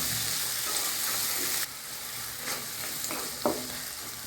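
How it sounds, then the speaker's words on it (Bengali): Small shrimp fry with salt, turmeric and chopped green chili in a pan, a steady sizzle broken by a few scraping stirs toward the end. "চিংড়ি মাছগুলো একটু ভাজা ভাজা করে নেব।"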